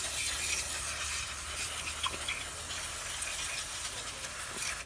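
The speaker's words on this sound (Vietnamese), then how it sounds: "anh em đã xịt trên này xuống đó để cho nó bay hết cái bình ra ngoài" Aerosol cleaning solution sprayed into a fuel injector to flush it out, a steady close hiss that runs unbroken, loud and even, with no talking.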